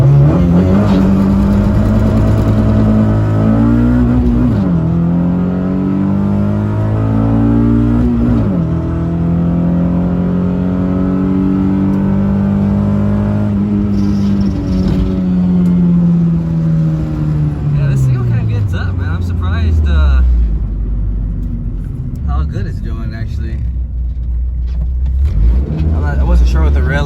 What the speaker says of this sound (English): I can probably give it a nice rev